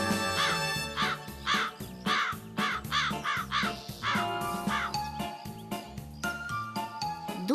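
Cartoon crow cawing in a rapid series of harsh calls, mixed with tinkling jingles and a bouncy musical backing, loud and close.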